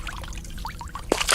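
A freshly caught fish is dropped nose-first back into Lake Lanier, making a short, close watery splash and slosh after a quiet moment of faint outdoor background.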